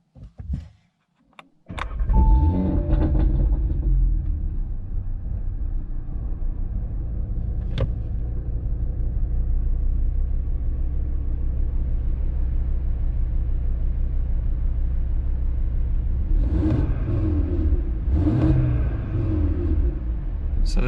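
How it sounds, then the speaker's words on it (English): A 2018 Audi TT RS idles with its exhaust valves closed. A short burst comes before the engine settles into a loud, continuous low rumble, and it swells briefly near the end. "this is how the car sounds with the exhaust valves closed"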